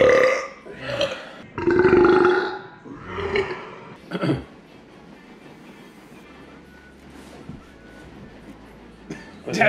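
Loud, long burps rumble out one after another during a burping contest between family members, followed by quieter background noise and a brief faint sound near the end.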